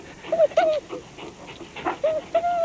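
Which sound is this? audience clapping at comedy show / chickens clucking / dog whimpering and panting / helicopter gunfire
dog whimpering and panting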